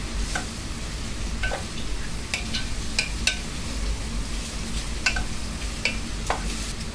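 Onions being stirred in a pot for Munnar-style chicken curry, with scattered scraping clicks from the spoon over a steady low sizzle, close and moderately quiet, no voices.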